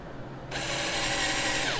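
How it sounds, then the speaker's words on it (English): A power drill drives screws into a wooden sawhorse. After a brief quiet moment, a loud, steady motor whir starts and holds close by. "All right, so I'm going to put 2 screws in."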